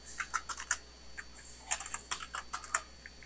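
An instructor types on an unfamiliar, newly swapped computer keyboard during a coding class, delivering crisp, irregular key clicks in quick bursts with brief pauses, close and clear.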